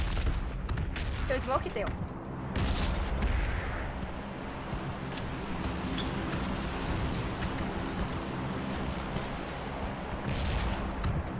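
Gunfire in a battle royale video game crackles in bursts of sharp shots and booms, some near and some distant, alongside a steady background drone while players talk over it.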